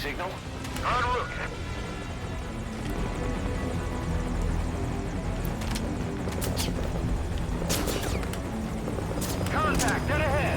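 A helicopter in Metal Gear Solid V: Ground Zeroes drones with a steady rotor thrum under the game's mix of effects, with voices talking over it and sharp impacts and gunfire-like bursts cutting through.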